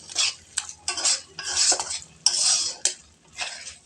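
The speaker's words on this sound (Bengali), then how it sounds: "চিনি দিয়ে ভালো করে নাড়িয়ে নেব।" Spoon scraping and clinking against a pan while sugar is stirred into prawn malai curry, a series of short irregular strokes, close and fairly quiet, with no talking.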